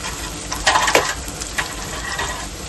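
Onion sautéing in a pan for a spicy chicken rassa, with a steady sizzle broken by a few quick scraping stirs near the start and a softer one later, all without speech.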